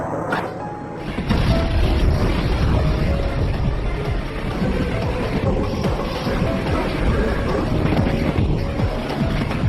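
A grenade blast in the 2004 film Main Hoon Na erupts after a brief quiet moment into a loud, deep boom that rolls on as a dense, sustained roar of rumbling debris for several seconds.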